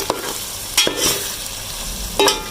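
Masala sizzles as it fries in a pot for Pakistani dal gosht, with a spoon scraping and stirring through it in a few distinct strokes over a steady close hiss.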